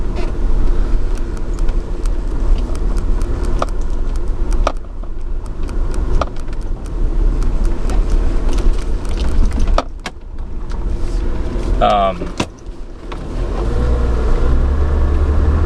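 A car rolls along a gravel road, giving a steady loud low rumble with road noise throughout and a brief whining sweep near the end.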